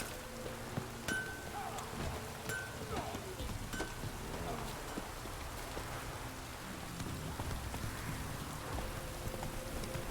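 Light rain in the Witcher 3 game world, a steady soft patter of drops with faint scattered clicks, quiet and continuous under occasional talk.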